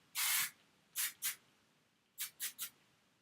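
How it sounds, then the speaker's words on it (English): A long hiss of aerosol spray, then two short bursts, a pause, and three more quick sprays, close and fairly loud in an otherwise quiet room. "And then just spray it all"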